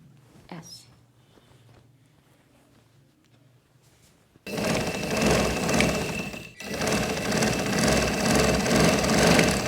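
A sewing machine runs close by while stitching a frock, a dense continuous mechanical whirr that starts after a quiet pause and carries on with one short break.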